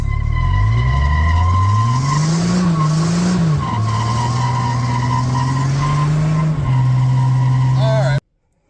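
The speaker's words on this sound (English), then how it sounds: "Let's see how many of your V8 pickups and everything will do idle burnouts" Ford 300 inline-six pickup spinning its tires in an idle burnout, a loud continuous tire squeal riding over the steady engine drone for about eight seconds, close and unbroken, then a sudden cut to silence.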